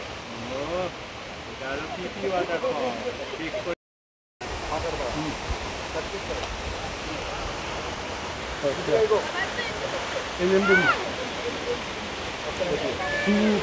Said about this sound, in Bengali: এই যে আমরা ওয়াটারফলের একেবারে সামনে চলে এসেছি।